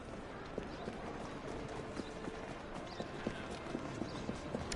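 Horse-drawn carriages pass at a distance, their hooves giving a faint, irregular clip-clop under a steady background hiss.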